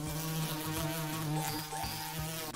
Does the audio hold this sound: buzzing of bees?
yes